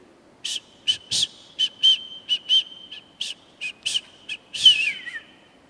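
A person whistles a tune in a string of short clear notes with a final sliding note, fairly loud and close with no speech over it.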